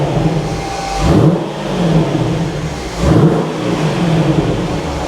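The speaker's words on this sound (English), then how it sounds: "I mean, that's a revvy V8." A 5.5 litre V8 in a lightly damaged Mercedes SLK55 is blipped twice, each loud rev climbing quickly and falling back to a steady idle, close up with no talk.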